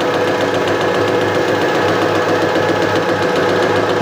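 A milling machine takes a finish cut on an alloy steel workpiece for a milling vice screw at about 600 RPM, producing a loud, continuous, close mechanical drone with a gritty cutting texture and no pauses.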